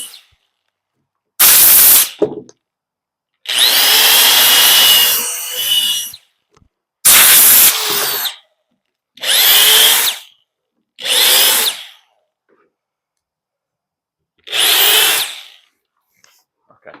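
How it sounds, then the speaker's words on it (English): A power drill bores a series of holes through a boat hull while the bottom is being faired, in about seven separate loud bursts of a second or two each, some longer, with quiet gaps between them and no talk. "Okay, now I've drilled them."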